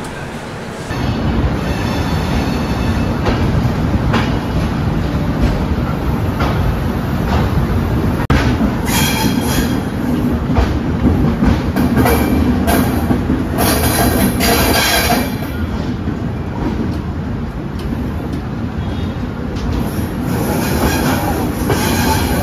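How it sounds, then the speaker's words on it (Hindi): The Lucknow Mail passenger train rolls on after departing Lucknow Junction, a loud, steady rumble of wheels on rails with rattling carriages and bursts of metallic squeal partway through, heard close from on board. "तो निर्धारित समय से अपनी ट्रेन का डिपार्चर हो चुका है लखनऊ जंक्शन से।"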